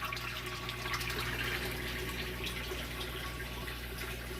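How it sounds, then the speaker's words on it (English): Steady rush of water draining from aquaponics fish tanks into a plastic IBC tote sump pit, a continuous trickling splash with a low hum underneath, fairly quiet and unbroken throughout. "We've got our fish tanks draining into there."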